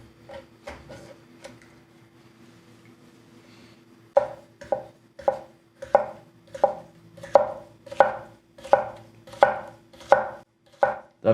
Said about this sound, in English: I'm just moving the knife forward and backwards. And we're going through no problem.